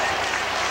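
A packed basketball arena crowd at a 1983 NIT game between Michigan State and Bowling Green roars in a loud, constant din. Clapping and cheering run together with no break.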